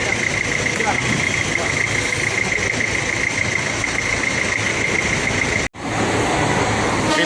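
A PT. Rapi bus, formerly a Big Bird coach, idles with a steady loud engine rumble and a constant high whine. The sound holds evenly and then cuts out for a moment near the end before returning.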